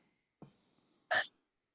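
A single sharp sneeze bursts out after a brief quick intake of breath, close and fairly loud, then silence.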